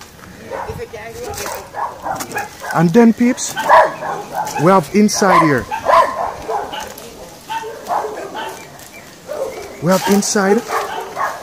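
A dog barks intermittently among the ruins of an 18th-century mansion in St Thomas, Jamaica, its yips and barks mixed in with nearly continuous talking close by.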